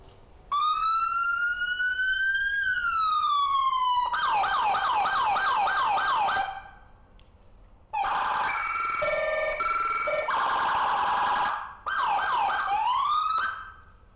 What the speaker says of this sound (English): we're going to start with the siren function